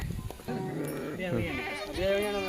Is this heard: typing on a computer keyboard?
no